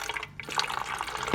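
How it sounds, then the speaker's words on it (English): Homemade Jamaican ginger beer pours into a bottle, giving a brief, close trickling and splashing of liquid. "I'm gonna pour the rest in this bottle and put it to cool."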